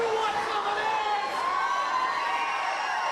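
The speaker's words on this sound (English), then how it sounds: "Fans definitely behind Hyson in this match, and listen to them cheering for him." A wrestling crowd at a match cheering and shouting continuously, a dense, steady roar of many voices heard from within the arena.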